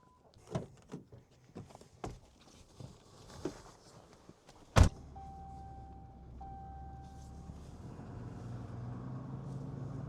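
Footsteps and a door slam are followed by a pickup truck starting and driving off to launch a Raider 300 Offshore boat, its low engine hum building steadily and faint near the end.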